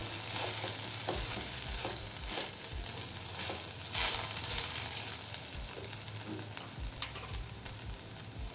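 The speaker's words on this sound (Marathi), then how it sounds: "यात आपण आलू घालू, चिरलेले आलू. आणि असंच फिरवून घेऊ." Chopped potatoes frying for sabudana khichdi are stirred in a pan, giving a steady close sizzle with repeated soft scraping and tapping strokes throughout.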